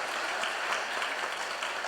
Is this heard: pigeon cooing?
no